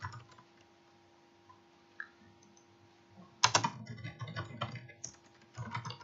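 Keystrokes on a computer keyboard, a few isolated taps followed by a quicker burst of close, crisp typing with short pauses, over a faint steady hum.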